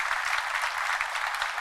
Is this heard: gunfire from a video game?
no